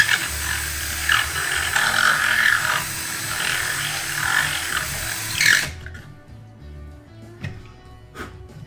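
A drill bit grinds steadily, enlarging a hole in a model airplane fuselage for several seconds, then stops abruptly, leaving faint clicks and rattles in a quieter room.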